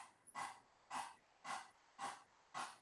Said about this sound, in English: start that puppy dog pant